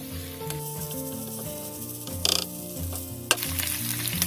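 Boiled macaroni lightly frying with keema in a pan, a steady sizzle with soft stirring clanks and one sharp knock, close and alone over a low background hum.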